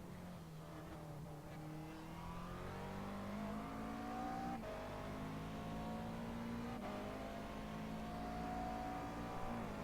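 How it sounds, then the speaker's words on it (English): A McLaren race car on a road course, heard from onboard as a loud, steady engine drone with rising and shifting pitch through gear changes, continuous for the whole stretch, with faint talk beneath. "Let's ride with Pancari. Awesome looking McLaren."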